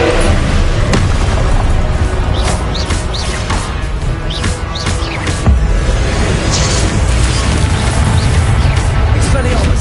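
Booming blasts and crashing bursts from spellcasting in Hogwarts Legacy, several loud explosive hits scattered through a dense, busy mix of combat effects.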